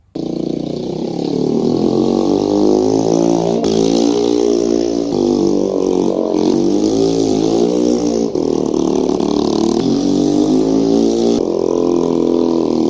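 A Chinese moped engine starts abruptly and then runs loud and close for the whole stretch, its steady buzzing drone rising and falling as the throttle is worked during the ride.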